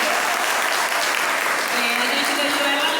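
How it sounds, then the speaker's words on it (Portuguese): An audience at a teachers' training event claps steadily, a dense wash of applause sustained throughout without a break. "Eu ia pedir uma salva de palmas para ela"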